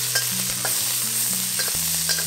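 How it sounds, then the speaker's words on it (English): Gai lan stems frying in hot oil with garlic in a wok, a loud continuous sizzle with stirring clinks and scrapes, no talk. "Add in the stems of the gai lan"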